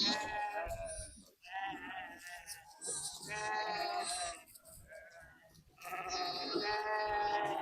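A flock of sheep with young lambs out on a hillside, lambs and a spotted ewe calling back and forth in repeated wavering bleats, close and fairly loud, some overlapping in a busy chorus.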